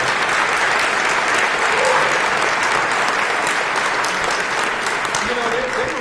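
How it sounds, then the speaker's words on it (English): A large crowd applauds steadily at a mayoral inauguration speech in Kansas City, with dense, sustained clapping at moderate loudness and no voices over it. "Let's give them a round of applause."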